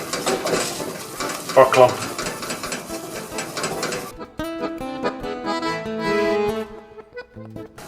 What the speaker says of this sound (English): mix it very fast and vigorously so the flour won't burn